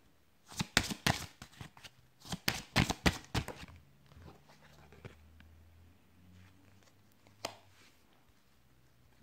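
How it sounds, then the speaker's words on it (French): Tarot cards being shuffled in quick, crisp riffling bursts, two clusters of rapid flutters, then quieter handling and a soft slap or two, close and alone. "Je vous ai tiré énormément de cartes là"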